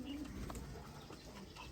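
Nashai chapda pigeons give a quiet, low cooing murmur, faint and brief against a constant background hiss.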